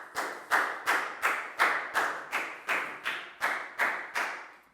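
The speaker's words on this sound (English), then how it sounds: "High five and a big round of applause for Net, please, guys." Children in a classroom clap together in a regular rhythm, about eleven loud synchronized claps each followed by a short ringing decay, with no voices.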